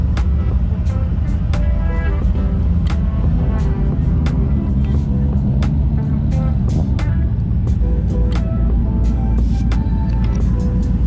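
Chevrolet Camaro ZL1 at an exotic car meet, a loud, deep, continuous engine rumble with repeated sharp clicks and knocks over it throughout.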